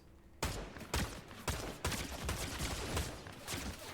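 Gunfire in the Fortnite video game during a high-ground fight on a mountain: five or six loud, sharp shots at roughly half-second intervals, each with a short crack and decaying tail over steady game ambience.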